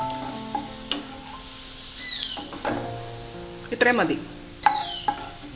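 Sliced onions fry in ghee for egg biryani, sizzling steadily while a utensil stirs and scrapes the pan with occasional sharp clinks; a voice speaks briefly.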